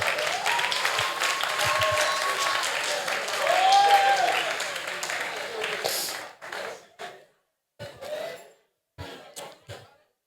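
A church congregation applauds in dense, lively clapping mixed with voices, then breaks into a few short separate bursts of clapping with silent gaps between them.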